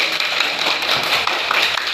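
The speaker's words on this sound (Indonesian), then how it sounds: "Aduh, tepuk tangan untuk Fahmi." A classroom group claps in a quick, uneven flurry of light taps at moderate loudness for about two seconds.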